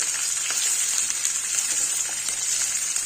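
Onions, both big and small, sizzle and fry steadily in sesame oil for a lentil and fenugreek curry, a continuous close crackling hiss with no talk.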